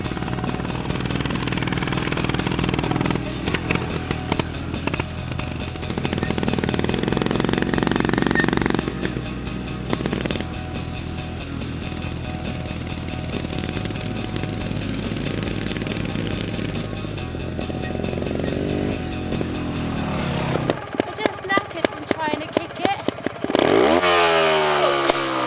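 A trials motorcycle ridden under power in gear across a field, front wheel locked, its engine buzzing and revving unevenly with throttle blips, close and loud, ending in a burst of sharp rapid revs.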